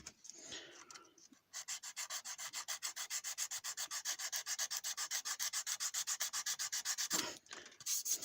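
Sandpaper rubbed over a plastic model car body, a fast, even back-and-forth scratching of close, steady strokes that runs for several seconds, with brief pauses at the start and end.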